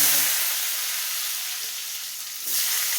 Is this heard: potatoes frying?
yes